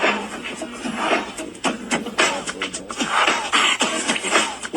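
Someone beatboxes a drum beat with his voice, a voice imitating the sound of a drum machine in quick, punchy rhythmic bursts, close and fairly loud.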